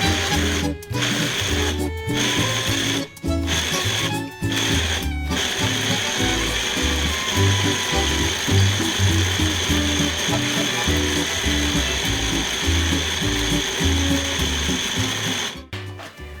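A kitchen appliance pulsed repeatedly to grind guinea pig pellets for homemade cookies, a loud rattling, churning grind broken by short pauses between bursts, close and continuous.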